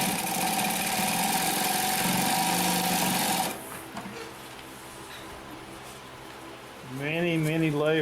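A Consew P1206RB upholstery sewing machine stitching through thick, layered material with seams, its motor whirring steadily and loudly before easing off. Near the end a voice-like tone rises over the machine.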